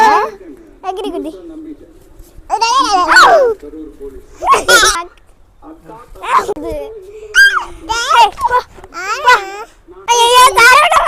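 Two black pet dogs on a home terrace bark and yip in repeated sharp bursts, loud and close, with a person's excited voice speaking between and over the barks.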